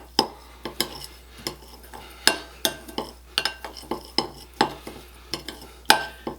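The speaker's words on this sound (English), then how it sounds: "we're just going to take a spoon and just get it nice and combined here" A spoon stirs grated parmesan cheese with a teaspoon of oil in a dish, clinking against the sides in quick, irregular taps and scrapes, close and fairly loud, with no talking.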